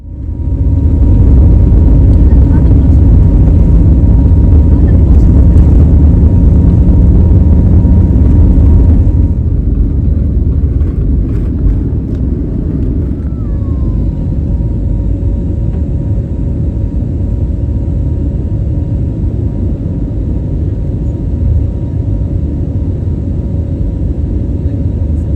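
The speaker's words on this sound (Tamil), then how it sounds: "ஃப்ளைட் வந்து டேக் ஆஃப் ஆகிடுச்சிங்க" A loud, steady roar of an airplane's engines during takeoff rumbles continuously, then eases into a fainter, even drone as the aircraft moves away.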